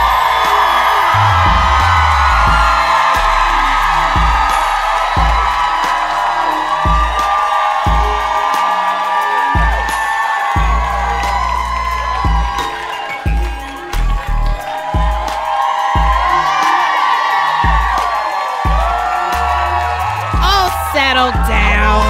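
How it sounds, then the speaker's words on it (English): A live audience at a podcast show greets its two hosts with loud sustained cheering, whooping and applause, a dense roar that stays steady, dips briefly and swells again. "let's give a round of applause for your host this evening, Heben Nigatu and Tracy Clayton"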